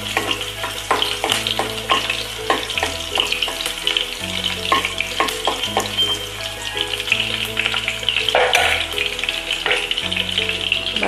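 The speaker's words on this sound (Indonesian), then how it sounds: "tumis sampai harum." Shallots sauté in hot oil for an Acehnese oyster curry, crackling and sizzling loudly and close, with frequent stirring scrapes throughout.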